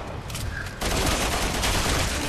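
Gunfire in the Resident Evil 6 video game: a quieter rattle of shots at first, then a dense, continuous volley of overlapping gunshots that stays loud to the end.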